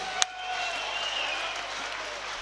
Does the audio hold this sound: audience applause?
yes